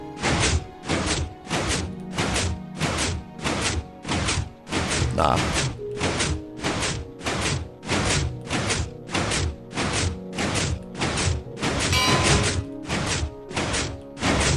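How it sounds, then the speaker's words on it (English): Minecraft pistons in a clock build thump in a fast, regular stream of loud repeated knocks that continue for the whole stretch, with a short spoken word briefly over them. "the pistons are louder than the bell"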